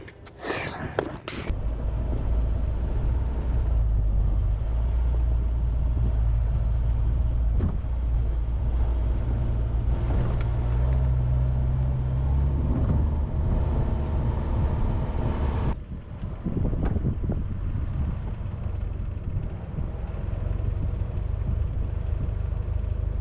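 A Subaru creeps over deep ruts on an off-road track up Old Woman Range in Central Otago, giving a steady low engine rumble with bumps and knocks from the car, heard from inside with a brief break partway through.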